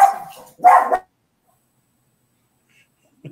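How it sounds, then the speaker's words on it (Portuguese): A small dog gives two short, close barks in quick succession, followed by silence and a faint brief noise at the end. "Esse é o cachorrinho da Ana, mas ele está bem."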